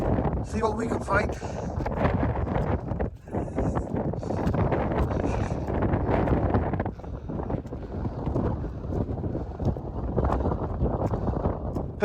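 Fierce mountain wind in a heavy snowstorm on Arenig Fawr pounds the microphone with continuous loud roaring gusts, briefly dipping once before surging on, muffled voices faintly mixed in.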